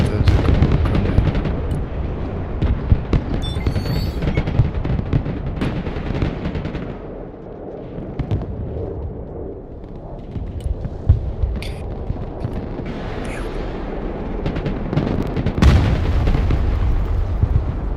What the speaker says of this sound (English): Yeah, no, there's a grenade.